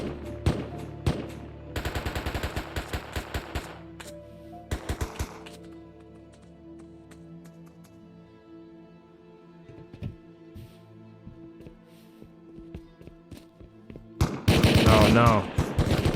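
AK rifle gunfire in the game Rust: loud rapid automatic bursts up front, a short pause, more quick bursts, scattered distant single shots, then a dense heavy volley near the end.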